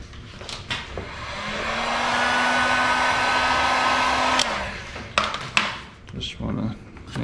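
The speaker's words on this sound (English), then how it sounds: "we'll hit that with a little bit of heat real quick." A heat gun blows steadily while warming vinyl graphics on a Can-Am Renegade ATV, a loud rising airy whine that holds for several seconds and then cuts off, followed by handling knocks.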